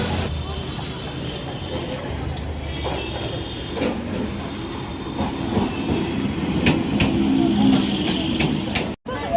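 A suburban passenger train runs on rails near Bidhannagar with a steady rumbling roar and rhythmic wheel clatter from inside the carriage, under indistinct background voices.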